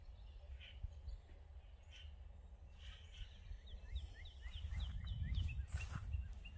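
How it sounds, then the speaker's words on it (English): Birds sing faintly in the countryside, with a run of quick repeated chirps near the end over a low background rumble. "I hope you guys can hear the birds"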